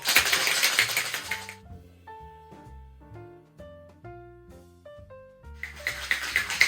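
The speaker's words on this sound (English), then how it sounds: "Pop the lid on and give it a shake." A cocktail shaker holding ice, tequila and lime juice for a watermelon kombucha margarita rattles in two short bursts of vigorous shaking, at the start and the end, with music playing between them.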